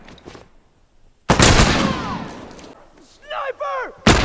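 Rifle fire in the PredatorGR Tourlou video game: a loud, heavy blast that booms and decays, then a brief quieter spell and another sharp shot at the end, with whooshing swept tones and voices mixed in between.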